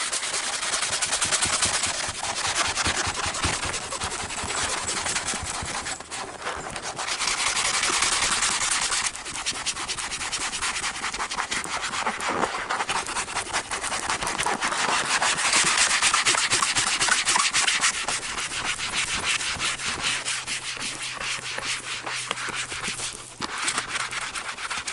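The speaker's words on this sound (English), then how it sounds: "I'll just start working on this graphic. Gotta put a little bit more on the eraser" An eraser rubs steadily across a graphic on goalie pads, a continuous close scratchy scrubbing in fast back-and-forth strokes with brief pauses, no voices.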